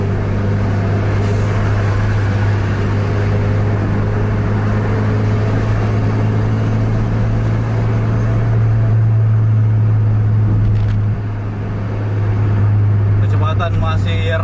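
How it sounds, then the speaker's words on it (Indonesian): A Volvo B11R coach and another bus overtake a truck on the road, heard from inside one bus as a steady, loud low engine drone and road rumble with voices talking over it throughout. "Ini udah rapat dua-duanya, lagi overtake truk."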